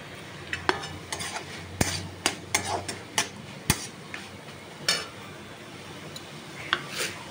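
Beet and carrot curry with roasted peanuts being stirred in a pan on a high flame, with sharp clinks of a utensil against the pot in an irregular rhythm over a soft sizzle, close and fairly loud.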